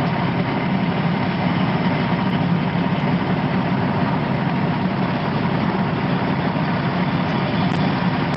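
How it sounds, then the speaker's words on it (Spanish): A tractor works alongside an excavator, a heavy low diesel engine drone that holds steady and loud for the whole stretch, with no voices. "Vamos a ver el trabajo de un tractor."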